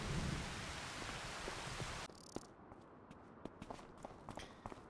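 Heavy in-game rain falls steadily in a Farming Simulator roleplay, then drops abruptly to light, scattered drips and taps for the rest of the clip.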